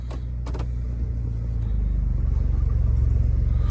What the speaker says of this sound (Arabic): صوت شرخه بالمحرك ورا ما اشتغلت